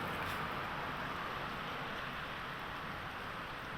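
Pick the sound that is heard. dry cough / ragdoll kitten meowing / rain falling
rain falling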